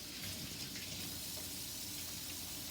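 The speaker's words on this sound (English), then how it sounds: "I'm going to wash my hands" A kitchen tap runs in a steady, soft gush while hands are washed, an even stream of water with no talk over it.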